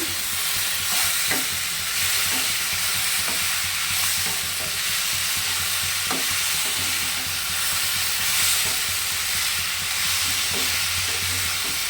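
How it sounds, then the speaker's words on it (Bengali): Vegetables sauté in a pan for a shrimp and greens curry, a dense continuous sizzle broken by regular clattering stirs of a spoon, close and loud, with no voices. "সবজিগুলো মজে যাওয়ার জন্য কষিয়ে নিচ্ছি"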